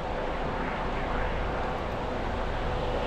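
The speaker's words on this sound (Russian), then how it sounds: "О, на вертолетах даже летают." A steady, broad whooshing roar of a helicopter flying overhead, constant in loudness throughout.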